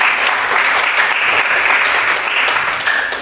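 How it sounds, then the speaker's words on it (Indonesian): Loud, sustained applause from a classroom audience for a student group after their presentation, a dense continuous clapping that holds steady and eases slightly at the end. "Tepukan dulu untuk kelompok kita"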